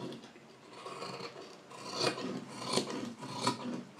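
Scissors snip through blouse fabric close by, a steady rasping cut with a few louder strokes toward the end, no talking.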